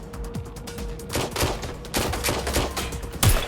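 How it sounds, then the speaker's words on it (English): Gunfire in the video game Watch Dogs Legion: repeated bursts of shots and volleys crackle across the clip, dense and loud throughout, with a sharper heavy blast near the end. "Suspect is shooting."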